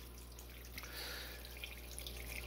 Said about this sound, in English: we'll have nice water flow without it splashing everywhere